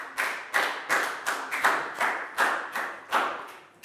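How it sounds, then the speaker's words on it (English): A class of primary pupils claps for a classmate during a Year 4 maths lesson: a loose, fairly sparse round of hand claps in uneven bursts, close by and moderately loud, with no talking. "Big round of applause for Pangpon"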